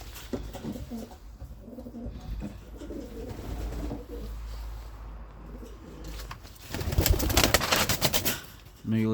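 Stock pigeon cocks coo softly in a loft, low repeated cooing phrases near and at moderate level, with wing flutters and a louder burst of movement toward the end.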